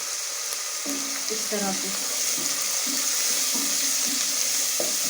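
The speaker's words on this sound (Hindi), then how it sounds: "अब इसे अच्छी तरह से मिक्स करेंगे" Chickpea curry masala with salt and turmeric is stirred in a pot under a constant loud frying hiss, with short scraping spoon strokes recurring, while a voice speaks briefly.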